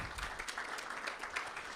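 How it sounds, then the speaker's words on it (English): Audience applause for sponsors at the LIBF Expo 2026 launch in Mumbai: a steady, moderately faint wash of many hands clapping, continuous throughout with no voices rising above it. "A big, big round of applause, for both of them."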